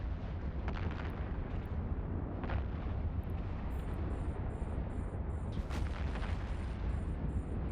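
Spaceship weapons and explosions in the game Eve Online during a fight with a destroyer: a dense, continuous rumbling barrage with a few sharper bursts and electronic beeps near the end, loud and unbroken, with no talk.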